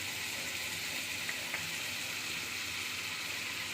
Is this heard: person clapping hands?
no